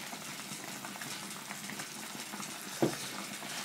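Medicinal herbal pork shabu-shabu hotpot bubbling steadily over a strong flame, a continuous close simmering hiss with one brief louder pop or clatter near the end.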